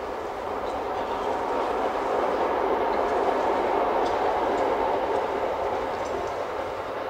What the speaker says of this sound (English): It is as natural as hearing that train roll by.